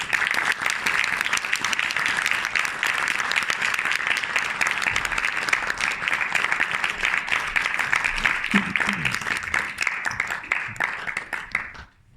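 Sustained, full applause from an awards ceremony audience at the Animest festival fills about twelve seconds, dense and even before stopping abruptly, with faint voices briefly audible underneath.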